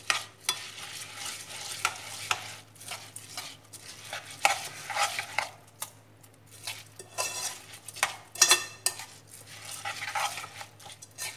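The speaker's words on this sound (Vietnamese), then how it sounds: "Trộn đều lên nha các bạn." Sticky rice being stirred and mixed in a bowl, repeated soft scraping and clacking of a utensil in an irregular rhythm, close and fairly quiet.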